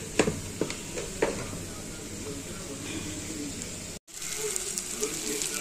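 Masala spices sizzling in a pan for a home-cooked Indian meal, a steady frying hiss with a few sharp crackles near the start and a brief dropout before the sizzle resumes.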